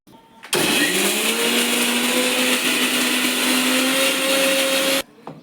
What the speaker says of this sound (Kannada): ಫಸ್ಟ್ ಇದು ಗ್ರೈಂಡ್ ಮಾಡ್ಕೊಂಡು ಆಮೇಲೆ ಟೊಮೊಟೊ ಹಾಕೋತೀನಿ